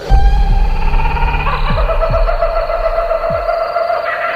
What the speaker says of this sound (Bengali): পেঁচা